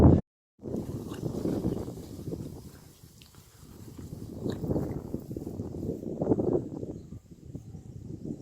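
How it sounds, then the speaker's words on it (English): Strong wind roars across open ground near moored day boats on a very windy afternoon, a steady buffeting rush that swells and ebbs in long gusts, loud and close with heavy rumble against the microphone and no one speaking. "very windy afternoon"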